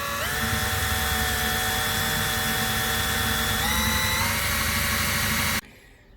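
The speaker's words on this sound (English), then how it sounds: "Now for the rear lights, I'm just gonna drill through here" An electric drill bores through the thick die-cast metal of a 1/18 Greenlight Chevrolet Terminator police car model for rear lights, a steady close high whine that shifts pitch midway and stops abruptly near the end.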